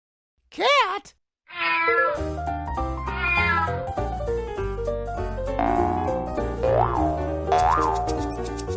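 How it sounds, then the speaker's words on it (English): A cat gives a clear, wavering meow near the start, followed by a pause and then bouncy, playful music with springy effects. "Cat?"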